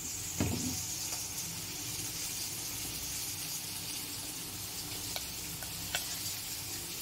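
Turmeric goes into browned chopped onions frying in hot oil in a pan, giving a faint, steady sizzle with a sharp clatter near the start and a few small clicks later.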